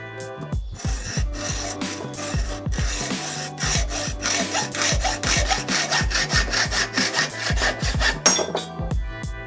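Hand saw cutting through a part for a 29-inch gravel bike build, with rapid back-and-forth rasping strokes in a steady, close rhythm, loud and alone without talking.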